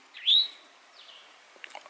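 A wild bird along the Appalachian Trail in Virginia gives a loud rising chirp, then a fainter second call and a few soft ticks, close and clear over a quiet background.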